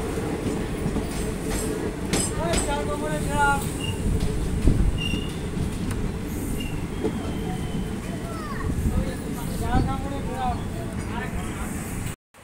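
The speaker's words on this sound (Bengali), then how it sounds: "আমোদপুর থেকে কিন্তু আমাদের ট্রেন ছেড়ে দিয়েছে" Howrah Jayanagar Express train running steadily after leaving Amodpur station, continuous rumble and clatter of wheels with occasional squeals, heard from on board with voices in the background.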